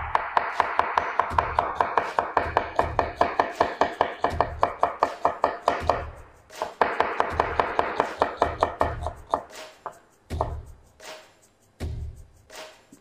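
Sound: knife cutting a very thin julienne on a board

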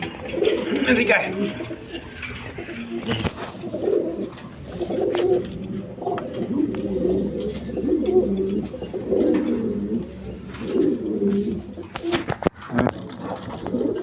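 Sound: pair of Koka pigeons cooing

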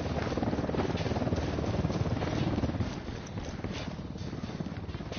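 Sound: helicopter in a video game (Tokhang Mode)

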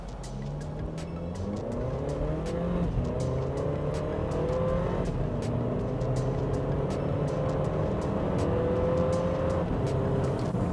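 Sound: Haval F7X accelerating 0 to 100 km/h in sport mode

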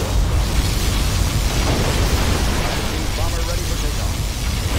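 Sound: particle cannon firing in Command & Conquer Generals: Zero Hour video game

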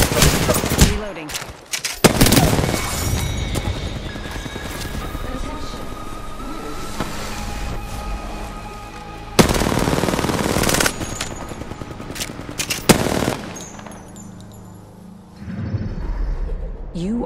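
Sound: gunfire in Apex Legends, a video game

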